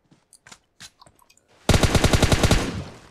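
Rapid automatic gunfire in PUBG Mobile, a loud fast burst of about a dozen evenly spaced shots after a few scattered soft clicks and faint distant pops.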